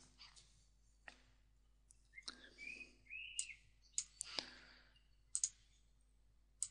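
Sharp, isolated mouse clicks on a computer mouse in a quiet room, a few single and double clicks spaced unevenly across the stretch, faint and close.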